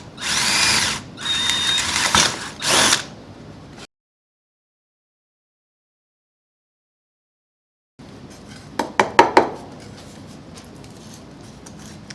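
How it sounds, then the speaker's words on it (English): A power drill with a half-inch bit whines loudly in short bursts boring a half-inch hole, goes silent for several seconds, then returns with a few sharp grinding spurts as it cuts through. "I'm going to go ahead and drill a 1/2 inch hole"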